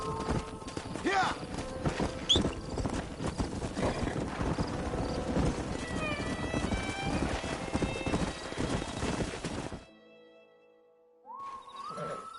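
Horse hooves clip-clop in a busy rhythm alongside a whinny and game effects in Red Dead Redemption, with voices talking over them before the sound cuts to quiet.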